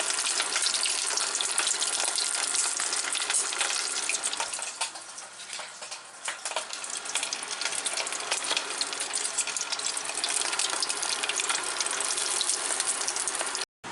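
Sauerkraut balls rolled in almond flour fry in hot oil with a dense, constant crackling sizzle and bursts of splattering pops, briefly softening midway and cutting off abruptly at the end.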